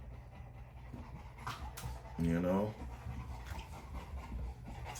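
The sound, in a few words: Cane Corso dogs panting and whimpering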